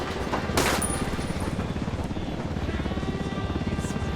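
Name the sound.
helicopter in the video game Ghost Recon Wildlands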